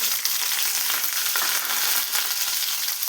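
Onions fry in hot oil with mustard seeds, cumin, peanuts and chana dal for coconut rice, giving a loud, steady, close sizzle with faint stirring scrapes throughout.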